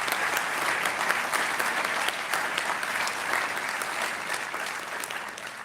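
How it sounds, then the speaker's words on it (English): Dense, steady applause from a large crowd at a doctoral hooding ceremony, continuous clapping that holds at an even level throughout. "I think you ought to all give them an applause"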